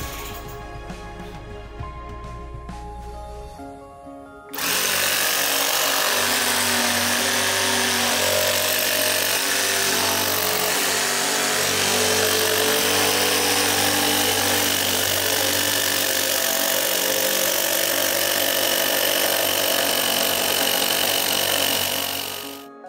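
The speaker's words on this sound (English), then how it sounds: "so that he could start cutting with his jigsaw" A jigsaw cuts wooden letters for wedding decor, starting with a few seconds of quieter shop sound and then a loud, steady buzzing saw cut that runs without a break for nearly twenty seconds.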